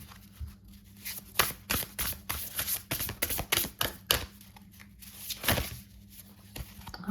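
Tarot cards are shuffled and drawn close by, a quick run of crisp papery riffles and flicks in irregular bursts, with soft slaps between them and little else in the background.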